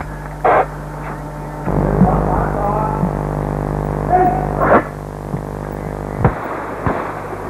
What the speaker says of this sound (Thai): นอกจากปืนใหญ่ฐานยิงต่างๆ ยิงไปยังที่หมายหนึ่งและสอง